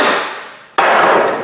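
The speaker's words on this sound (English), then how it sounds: "hold just that ear of the U-joint while you hit just that cap out" Two loud, close metallic hammer blows on a U-joint held in a vise, knocking out a bearing cap; each strike rings and decays, the second landing about three-quarters of a second after the first.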